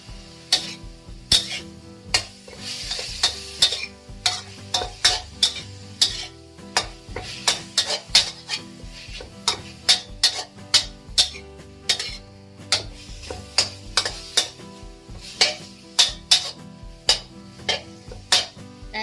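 Minced pork stir-fried with holy basil in a pan: a close, steady sizzle under repeated sharp scrapes and clanks of a utensil against the pan, in an irregular rhythm throughout.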